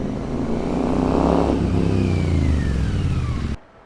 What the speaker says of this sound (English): the aftermarket exhaust that I installed really brings out that nice sound